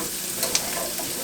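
Tomato paste is stirred into spaghetti sauce in a hot pan, giving a steady close sizzle with a couple of faint tapping clicks and no voices.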